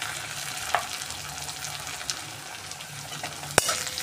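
Onions frying in oil in a pan with ginger, garlic and coriander paste, a steady soft sizzle with occasional stirring clinks and one sharper utensil knock near the end, with no talk.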